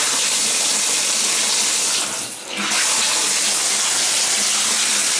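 Water running hard from a bathroom tap feeding a tub shower, a loud steady rushing gush with a brief dip midway, continuous and close.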